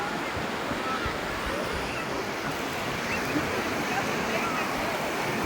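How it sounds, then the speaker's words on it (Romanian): Large North Sea waves break and roar in a dense, continuous wash, close and loud, with wind buffeting the microphone. "Nebunie cât de mari sunt valurile."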